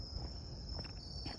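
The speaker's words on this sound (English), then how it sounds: "And then the cricket speaks it with that cricketing noise to" Crickets chirp in a steady, faint, high-pitched trill that runs unbroken through the moment, with no voices present.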